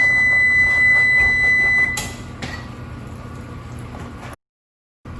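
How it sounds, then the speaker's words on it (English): Kitchen timer giving a steady high electronic beep for about two seconds before cutting off, followed by quieter kitchen clatter and a brief silence. "Can you turn off your timer?"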